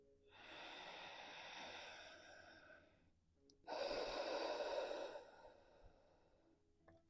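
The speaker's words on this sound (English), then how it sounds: "Practice your breath in a compromised pose like this. Breathe deeply." Slow, deep breathing during a seated chair yoga session: a long, soft inhale followed by a fuller, louder exhale, close and quiet with no talking.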